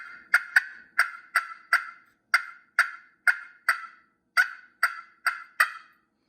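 A turkey call cutting: a rapid run of sharp, loud yelps and clucks in uneven bursts, each note clipped short, with no talking.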